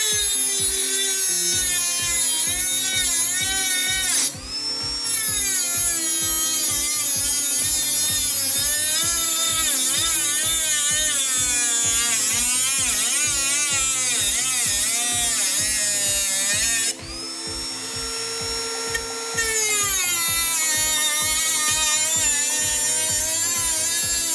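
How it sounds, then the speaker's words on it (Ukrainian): A Milwaukee C12 RT cordless die grinder cuts through 1 mm sheet steel, producing a loud, sustained high-pitched whine with shifting tones and steady grinding chatter, dipping briefly twice as the tool eases off the metal. "спробуємо порізати ось таку листову сталь, міліметрову сталь"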